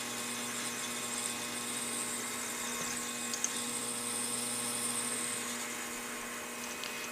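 A small hobby lathe motor straining at low RPM on a light 1/64-inch cut, a steady whining machine drone with a faint bogging, held close and continuous without speech.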